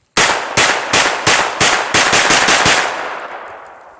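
A mud-covered 9mm AR rifle fires fifteen rounds outdoors, loud sharp cracks in a steady semi-rapid string with a brief pause partway, ending in a fading echo.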